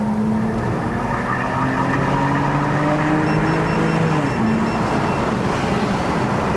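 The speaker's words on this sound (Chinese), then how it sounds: "它有降档补油哦" Inside a BMW E90 325i climbing a mountain road, the engine hums and rises in pitch under load, then dips and flares briefly as revs are matched on a downshift, loud and close amid road noise.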